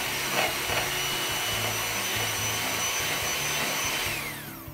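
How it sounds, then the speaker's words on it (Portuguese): An electric mixer beats sponge cake batter in a bowl, giving a steady, loud whirring hum with no talk. The sound tapers off at the end. "tirar a sua batedeira lá do fundo e criar uma intimidade com ela. Então vamos bater aqui até quadruplicar de volume"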